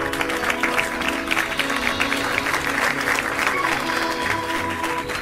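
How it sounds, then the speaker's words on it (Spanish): An audience welcomes a speaker with sustained, even applause that holds steady throughout, close and fairly loud, with faint voices mixed in. "recibiremos con un gran aplauso al director del departamento de Ujieres"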